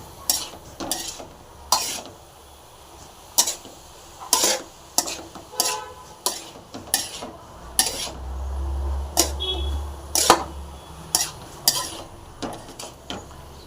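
Carrot halwa stirred in a pan for Pongal, with a ladle repeatedly scraping and knocking against the metal in a quick, uneven rhythm over a soft sizzle.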